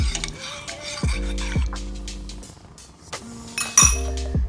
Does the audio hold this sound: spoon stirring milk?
yes